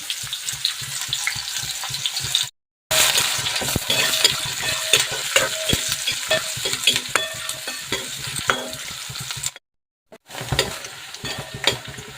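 Onion sautéed in a pan until reddish, a steady close sizzle with stirring and scraping, broken by two brief silent gaps.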